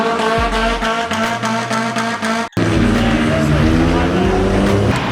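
A Mazda Miata doing burnouts at a car meet, its engine roaring near and loud while tires squeal continuously, with people shouting over the noise.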